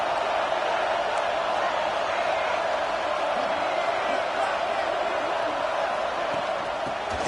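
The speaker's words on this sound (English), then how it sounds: "here comes the noise. This crowd is trying to inspire this defense to make a big red zone stop." A football stadium crowd roars steadily during a red zone defensive stand, a dense sustained wash of cheering voices and noise that holds loud and unbroken throughout.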